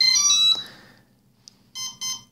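A brushless motor's electronic speed controller gives a rapid series of high electronic beeps on power-up, then after a pause a short blip and two longer tonal beeps, clear and close.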